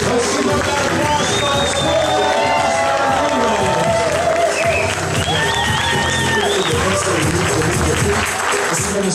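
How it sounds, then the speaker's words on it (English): Wedding guests burst into sustained applause and cheering for the newlyweds, a dense crowd of clapping with whoops that carries on loudly throughout. "Let's give them that applause"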